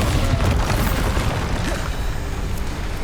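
A spell explosion in the video game Hogwarts Legacy: a loud, booming blast with rumbling low-end debris that fills the whole moment and slowly fades.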